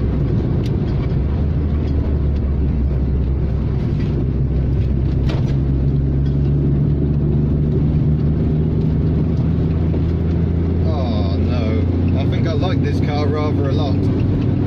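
A tiny Innocenti Small 500 hatchback with a Daihatsu engine drones along at a steady, buzzy pace, its low rumble constant and close throughout with brief rises in pitch late on; someone speaks over it.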